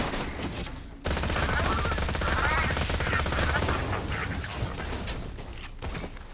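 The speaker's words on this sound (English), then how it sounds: "I know the Tattler's a really good SMG, so we'll see how well it does here." Tattler submachine gun from Borderlands 2 firing a dense, continuous automatic burst that starts abruptly after a moment of near quiet and rattles on loudly with steady rapid shots over game sounds.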